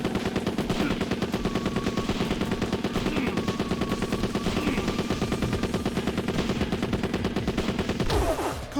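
Gunmen fire guns at close range in the video game Yakuza 2, a dense, steady run of rapid automatic bursts lasting several seconds before a brief heavier crash near the end.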